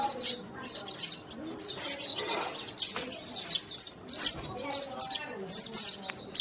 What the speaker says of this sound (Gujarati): બધાય માળામાં ચકલીઓ પોતે પોતાના માળા બનાવી રહી છે